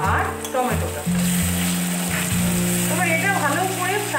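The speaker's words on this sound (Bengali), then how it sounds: "এবার আমি এর মধ্যে অ্যাড করবো কুচানো লঙ্কা আর টমেটোটা।" Chopped green chillies and tomato frying with onions in a pan, a loud continuous sizzle and crackle with stirring scrapes, voiced talk running over it.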